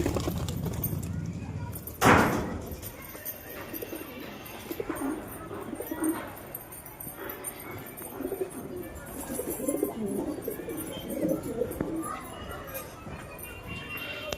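Pigeons coo softly while they feed on scattered grain, with low murmuring calls, light shuffling and a brief louder bump early on, heard through steady outdoor background noise.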